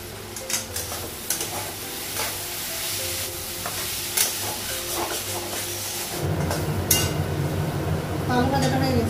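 Poppy seeds and turmeric frying in a hot wok give a continuous sizzle and hiss with scraping stirs and occasional clinks, growing a little louder toward the end.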